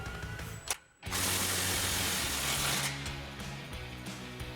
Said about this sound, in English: Then we can come back and snug down our clamp, and using our 16 mil socket.